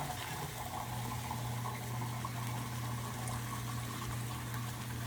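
Water is poured into a sauce simmering in a pan over a lowered flame, making a steady, continuous splashing and gurgling rush at moderate loudness.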